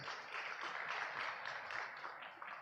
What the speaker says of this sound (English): Let us give them a very warm applause.